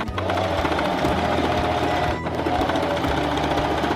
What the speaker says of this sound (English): take this to the sewing machine and just sew it right here all the way